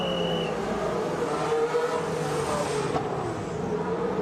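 Formula 1 cars at the 2016 Austrian Grand Prix qualifying in wet-to-dry conditions, a steady, loud engine drone filling the whole stretch with a brief high whine early on and no voices.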